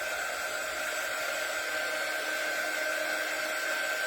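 A hair dryer blows steadily and loudly at close range, drying a snowman door hanger craft, with a constant whine and rush of air and no talking.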